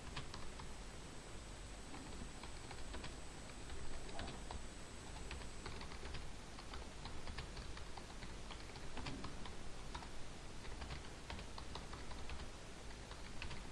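Notes being written out during a physics lesson on electromagnetic induction and self-inductance: a close, steady run of light tapping and clicking strokes, quick and irregular like keyboard typing, continuing for the whole stretch over a faint hiss with no one speaking.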